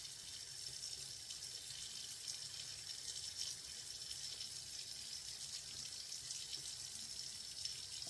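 Steady running water from a tap while a face is washed, a continuous hiss at close range with no talk.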